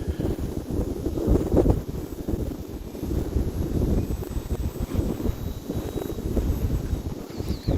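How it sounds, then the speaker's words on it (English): Wind rushes and buffets the microphone at an outdoor field where a Hobbyzone Carbon Cub S 2 RC plane flies, a steady rumbling roar with gusty surges throughout. "The wind just picked up again"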